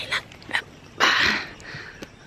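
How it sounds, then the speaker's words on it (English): A young puppy makes short snuffling, panting bursts and a louder breathy whimper, close to the listener, with brief quiet gaps between sounds. "Puppies!"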